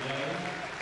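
Spectators at Crufts applaud a Labrador Retriever in the gundog group, a brief, fairly quiet wash of clapping heard under a commentator's voice.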